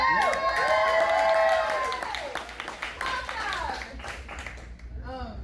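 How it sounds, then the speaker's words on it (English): Open-mic poetry crowd at Graffiti's clapping for a performer, scattered hands under loud amplified talk and whoops, the clapping thinning toward the end while a voice keeps speaking over it. "Keep clapping for Trev."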